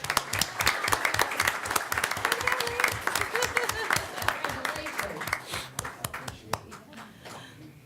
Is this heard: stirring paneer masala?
no